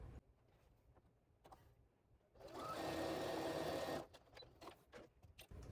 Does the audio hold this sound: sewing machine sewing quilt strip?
yes